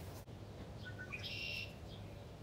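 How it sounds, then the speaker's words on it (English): Faint bird chirps outdoors, a few short high calls against a steady background hum, heard while walking two doodle dogs on leashes. "You hear the birds?"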